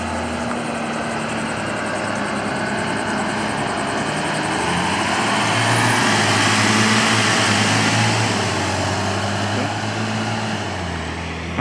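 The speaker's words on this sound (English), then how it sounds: "Here comes a bus, activity bus. It says Madison County Schools." Madison County Schools activity bus rolling by on a dusty town street in Hot Springs, North Carolina, a steady loud engine drone swelling as it passes close and then easing off.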